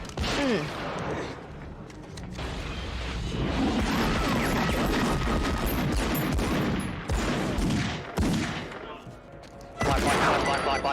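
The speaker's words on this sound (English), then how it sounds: "So they just end up shooting everybody." An ambush shootout from the movie Dead Presidents: dense volleys of gunfire with crashing impacts and sharp bursts run almost without a break, loud and close, with voices shouting through the chaos.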